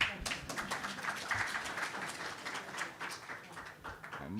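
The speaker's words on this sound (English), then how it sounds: "It's not against the law to clap" Scattered applause from the audience at a foreign-affairs discussion event, faint and distant, with irregular claps in a reverberant hall.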